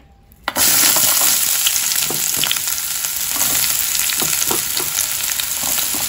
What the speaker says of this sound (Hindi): पियाज को भल से फ्राए करवा जेपर्यंत से रेड ना पड़ी